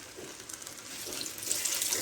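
Water poured into a pot of Ghanaian oil rice (angwa mo) frying in oil, a soft continuous splashing hiss that gradually grows a little louder.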